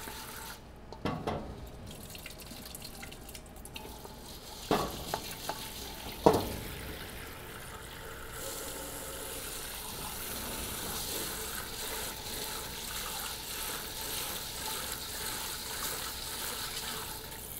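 Water runs and splashes while a soil sample is washed through a lab sieve, several sharp stirring and scraping bursts early on giving way to a steady trickling flow, nearby and with no talking.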